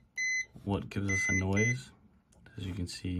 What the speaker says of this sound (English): we can change it so it'll let out a noise when we find the ground.